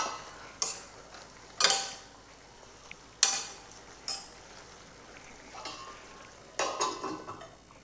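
A bitter gourd stir-fry (mezhukkupuratti) is stirred in a pan, with several scattered scraping and clinking strokes against a quiet low background, close by and with pauses between them.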